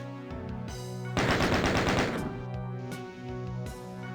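Rapid gunfire at a pain elemental in the video game DOOM, a loud burst of quick repeated shots over steady droning game music, then quieter sporadic hits.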